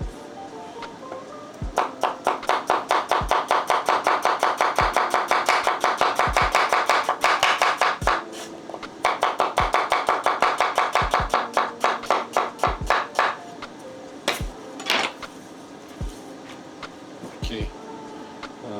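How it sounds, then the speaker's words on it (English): A knife chops onions on a cutting board in fast, even strokes for a stew base, the close, crisp taps running in long bursts with brief pauses, over a low background hum. "So quickly just chop up"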